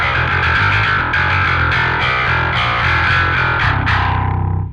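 A distorted five-string electric bass riff with the mids rolled down for a scooped, thin midrange, played steadily and loud, ending on a ringing sustained chord.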